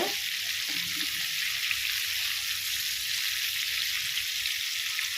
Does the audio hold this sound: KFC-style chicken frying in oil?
yes